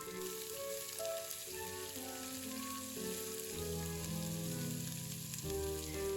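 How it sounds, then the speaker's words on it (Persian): Sliced onions fry in oil in a pan, giving a steady, soft sizzle that runs under louder background music throughout. "داخل تاب روغن ریختم و پیازهای خلالی را سرخ کردم تا نرم و طلایی بشن"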